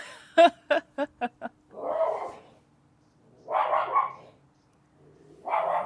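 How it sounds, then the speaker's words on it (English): Small dogs bark in a quick run of five sharp yips near the mic, followed by stretches of people talking. "these little dogs"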